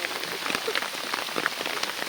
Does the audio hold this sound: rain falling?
yes